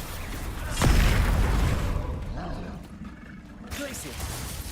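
A Repulso spell cast in the Hogwarts Legacy video game lands as a sudden loud booming burst, followed by a rumbling roar that fades, with a voice talking over it.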